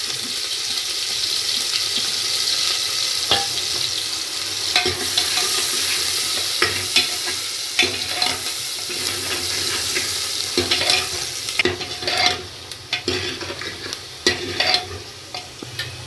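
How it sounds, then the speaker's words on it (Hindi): Chopped onions fry in oil left over from frying elephant foot yam, giving a loud, continuous sizzle with stirring clatter and scraping that grows busier toward the end. "जिस तेल में मैंने जमीकंद फ्राई करा उसी तेल में मैं प्याज डाल रही हूँ"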